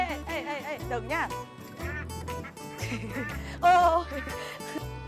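Ducks quacking during a duck-herding challenge on a Vietnamese race show, with one duck wearing a bow, nasal calls repeating under steady chatter and music.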